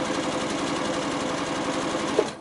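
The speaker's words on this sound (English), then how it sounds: "I will go in and start sewing this one." A sewing machine runs steadily while stitching quilt squares with a quarter-inch seam allowance, a continuous close hum with a fine rapid rhythm that cuts off abruptly at the end.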